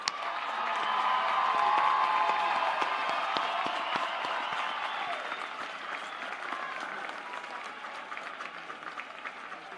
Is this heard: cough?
no